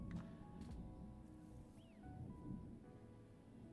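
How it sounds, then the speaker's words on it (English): Thunderstorm outside, a low, distant rumble of thunder with steady rain texture, faint and continuous beneath quiet ambient tones. "that's the storm that's going on right now outside"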